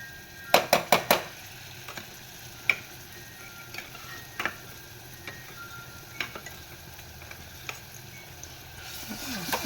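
Ground masala paste sautés in oil for mandeli kadu, a soft sizzle under repeated metal clinks and scrapes of a spoon against the pan, the loudest burst early on.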